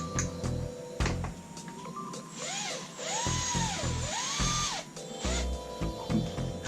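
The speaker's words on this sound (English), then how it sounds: "Chuck your piece of rod up into the drill." A power drill spinning a piece of rod chucked in it whirs in bursts, its motor pitch rising and falling as it spins, with brief pauses and clunks between runs; fairly close.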